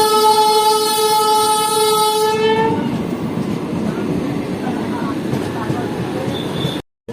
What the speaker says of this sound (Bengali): পাশের লাইন দিয়ে গণদাতা এক্সপ্রেস পার হচ্ছে হাওড়া থেকে আজিমগঞ্জ।